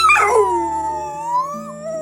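A dog howls on request in a long, drawn-out, rising and falling wail close by, alone without talk.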